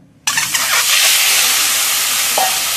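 Eggs drop into hot oil and set off a sudden loud sizzle that stays steady and close, with crackling spatter and a few stirring scrapes inside the hiss.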